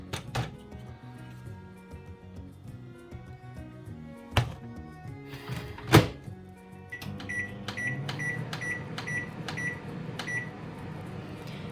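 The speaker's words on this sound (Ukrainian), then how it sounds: "Поки мікрохвильовка готує паску" A microwave oven baking paska Easter bread hums steadily with a few thunks and clicks, then a string of regularly spaced high beeps sounds near the end.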